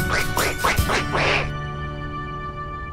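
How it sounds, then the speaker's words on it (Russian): Ducks quack loudly and close by on a lake, giving about four rapid calls in a row before falling quiet against a steady hum of background noise. "Смотрите, утки со всего озера плывут на мое печенье."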